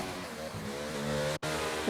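Formula 1 car in the F1 22 racing game spinning its wheels under heavy torque, a loud continuous engine roar with rising revving harmonics, cut by a brief dropout partway through.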